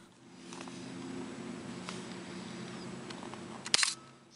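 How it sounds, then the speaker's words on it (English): The shutter of a Graflex 1000 camera being cocked and fired, heard as a single sharp mechanical snap near the end over a low, steady room hum. "cock the shutter with the cocking knob and fire the shutter"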